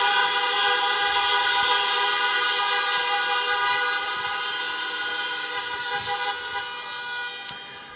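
A vehicle horn sounds outside in one long, sustained, tonal blare that holds steady before gradually fading, with a faint click near the end.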